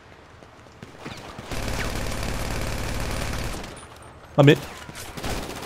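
Submachine gun fire in GTA V Online, heard as a sustained rapid burst of shots running about two seconds, followed by a short loud impact and quieter game noise, with someone speaking briefly.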